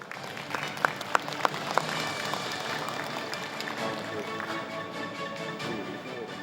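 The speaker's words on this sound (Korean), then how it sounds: "여러분 큰 박수로 모시겠습니다." Applause from an audience at a launch ceremony for a regional job-creation project, welcoming a speaker to give congratulatory remarks; a few sharp claps stand out early, then steady clapping continues at moderate volume throughout.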